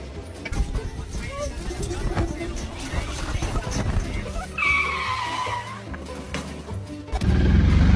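A golf cart swerves and skids on a golf course, tires squealing in a rising screech midway through, amid engine rumble, crowd babble and overlapping voices, ending with a louder rush of noise.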